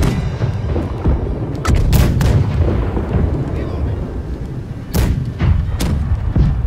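Ship cannons fire in the pirate naval video game Blackwake: several loud, close booms land in irregular bursts, some in quick pairs, over a low rumbling background.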